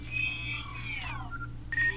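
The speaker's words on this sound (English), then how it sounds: "The sound you hear isn't the actual sound the hardware is making, it's an added effect." Synthetic sound effect for a smartphone's pop-up front camera extending, heard as a short series of bright electronic chirps and gliding whistle-like tones over a low steady hum, ending in a louder tone burst.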